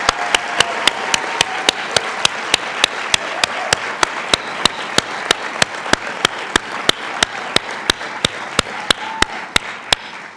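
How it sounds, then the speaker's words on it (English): Audience applause at a college of nursing white coat ceremony, with one loud, close clapper keeping a fast, steady beat over the softer clapping of the crowd. "Okay, big round of applause again"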